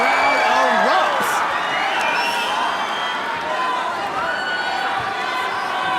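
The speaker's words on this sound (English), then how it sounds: "And the crowd erupts." Arena crowd cheering and roaring loudly at a ONE Championship MMA fight after a takedown, a dense sustained wash of voices with shouts, with a commentator talking over it.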